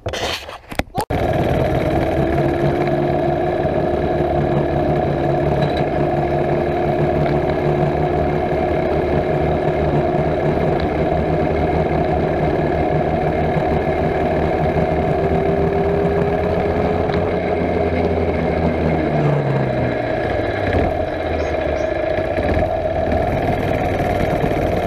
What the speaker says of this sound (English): I love my mini bike.